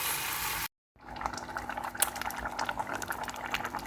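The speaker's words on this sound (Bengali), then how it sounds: "আর এই যে আমি এখন ডালটা বুনাই নিচ্ছি" Lentils (dal) fry in a pot with a close, steady bubbling sizzle, broken once by a short silent gap before the bubbling resumes and keeps going.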